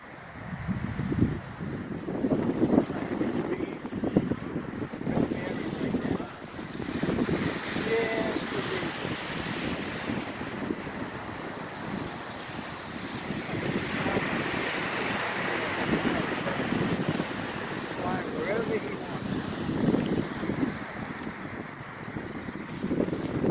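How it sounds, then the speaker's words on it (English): Wind gusts across Orchard Beach from the south-southeast at about 10 miles an hour, buffeting the microphone with a continuous rough roar and rumble, along with faint surf-like wash throughout. "And the wind is at south-southeast 10 miles an hour."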